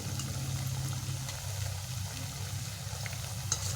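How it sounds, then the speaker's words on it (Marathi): Ridge gourd bhaji deep-frying in hot oil over a medium flame, a steady low bubbling sizzle with a constant hiss running evenly throughout, close and moderately loud. "मीडियम गॅसवर आपल्याला हे सर्व भजी तळून घ्यायचे आहेत।"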